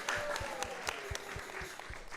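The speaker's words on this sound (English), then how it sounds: "So let's give a big round of applause to everyone who has joined us tonight here." Soft, distant applause from the crowd at an evening Krishna Katha gathering, a faint continuous patter of many hands with a few separate claps standing out over a low background hum.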